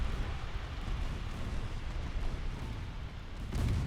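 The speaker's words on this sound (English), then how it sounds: "Yeah, there goes the torpedo." A torpedo strikes a ship in a naval warfare game, producing a low, rumbling explosion that rolls on steadily at moderate loudness and swells again near the end.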